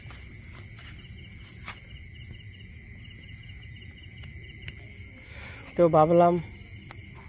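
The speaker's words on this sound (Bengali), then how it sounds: "একটু ঝিঝি পোকার আওয়াজ শোনাবো রাত্রিবেলা" Crickets chirp at night in a rural outdoor setting, a steady high-pitched trill held throughout, with someone speaking briefly near the end.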